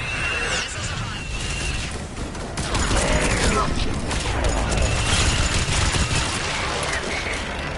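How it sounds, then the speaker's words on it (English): Missiles launch in a Mass Effect 3 battle as a dense burst of rapid blasts and crashes that swells midway, loud and continuous, with speech mixed in. "Missiles are hot."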